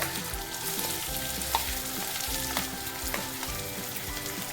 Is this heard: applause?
no